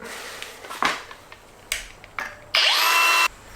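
A trolling motor part clamped in a vise is cut with a power tool, which gives short bursts and clicks and then one steady, loud whine of about a second, all close by with no speech.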